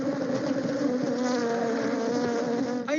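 A honeybee colony droning in an apiary, a steady dense buzz of many bees close by that holds evenly throughout, with no voices.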